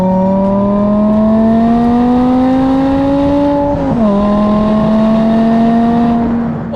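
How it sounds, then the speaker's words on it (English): BMW M5 Touring with a naturally aspirated, F1-inspired V10 revs up, its pitch climbing steadily, then briefly dipping at a shift before rising again, loud and close with no talking. "not with an F1 inspired engine that sounds something like this"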